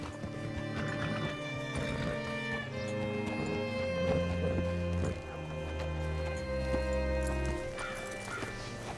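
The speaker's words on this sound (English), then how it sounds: "Hitch your horse up here." A horse's hooves clip-clop steadily at a walk, with a whinny among them, heard faintly under a continuous musical score.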